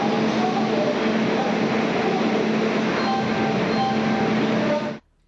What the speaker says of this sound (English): The locomotive that will be powering our train is Hubli WAP7